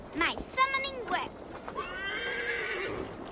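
A horse in the video game Assassin's Creed Valhalla neighs with a loud, wavering whinny, followed by a second, longer whinny over faint hoof clip-clops.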